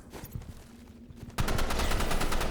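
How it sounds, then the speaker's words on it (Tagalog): Rapid, loud gunfire bursts from a freezing gun in the Roblox shooter game Rivals, a dense volley of shots that starts abruptly and keeps going, following a quieter stretch with a low hum. "Nakailag tayo sa freezing gun."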